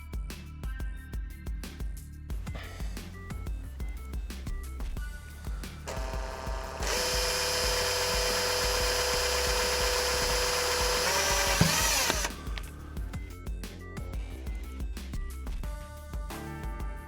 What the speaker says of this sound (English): So now I can drill out my hole here and feed those through